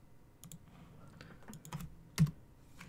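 Typing on a computer keyboard while configuring a network switch: a few scattered, soft key clicks with one louder keystroke near the end, quiet and close.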